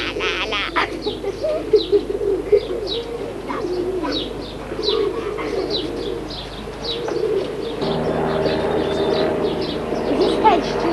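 Pigeons coo in soft repeated phrases among scattered chirps, fairly close, with a faint voice or two in the background.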